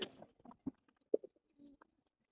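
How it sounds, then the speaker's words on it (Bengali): A pigeon with food stuck in its throat makes short, sputtering coughs and soft coos in scattered bursts, close by and otherwise quiet. "একটা কবুতরের গলায় মনে হয় খাবার ঠিকছে একটু কাশাকাশি করতেছে"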